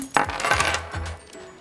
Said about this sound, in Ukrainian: Зайчик носить ключі, шумить ними